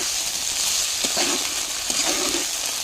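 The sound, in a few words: okra being stirred and fried in a pan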